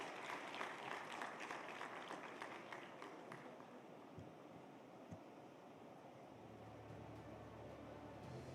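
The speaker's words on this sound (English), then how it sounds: "Can we have another big round of applause" Audience applause at a defence summit fades from a dense burst of clapping into a quieter, hissing room tone with a few scattered claps, faint and distant overall.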